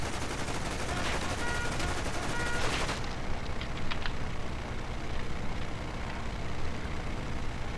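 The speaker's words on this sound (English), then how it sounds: "Strafing run! World's worst strafing run." Aircraft strafing run in the Toy Soldiers video game, a dense rapid burst of machine-gun fire for about three seconds, then fading into engine drone and scattered distant impacts.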